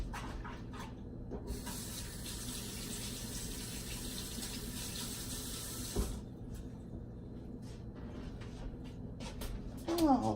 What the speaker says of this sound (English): let me wash this hand back off